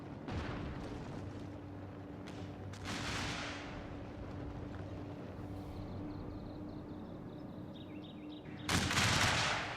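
Musket volleys crackle across a Shogun 2 battlefield as massed gunfire bursts out over a constant rumbling battle din, with one roll early and a louder, nearer volley at the end.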